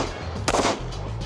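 Pistol gunfire during a SIG Academy rifle-to-pistol transition drill, a single loud, sharp shot with a brief echo tail, heard close up against a quiet outdoor range background.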